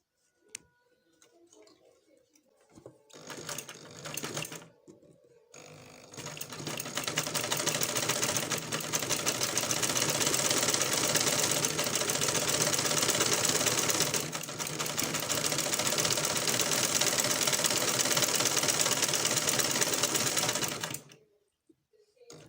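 A manual sewing machine stitches a buttonhole with a rapid, even ticking hum that is loud and close. It runs continuously for about fifteen seconds after a few brief starts, with a short dip in the middle, then stops.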